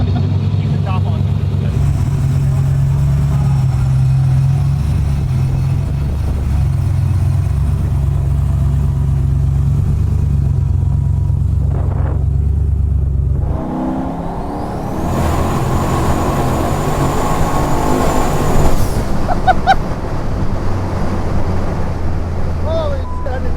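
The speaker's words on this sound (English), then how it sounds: "This car shouldn't move that fast." A 4000+ horsepower Chevy Nova drag car engine rumbles loudly at idle, then surges into a harsh, roaring acceleration partway through, with wind buffeting and people talking over it.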